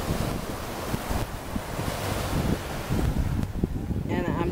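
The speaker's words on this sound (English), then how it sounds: "And I'm just listening to the waves." Ocean waves wash steadily onto a sunny beach, a continuous close roar of surf with strong wind buffeting the microphone, and a brief voice near the end.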